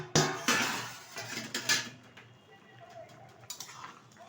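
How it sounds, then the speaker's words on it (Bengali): Metal lid clattering as it is lifted off a cooking pot of shukto, a Bengali mixed-vegetable curry: a sharp clank followed by several lighter metallic knocks and scrapes, close up, with quieter rustling after. "ঢাকনাটা তুলে দিচ্ছি"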